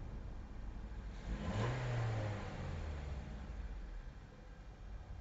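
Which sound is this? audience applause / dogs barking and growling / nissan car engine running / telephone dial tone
nissan car engine running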